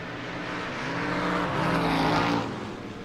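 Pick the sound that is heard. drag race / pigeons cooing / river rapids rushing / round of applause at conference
drag race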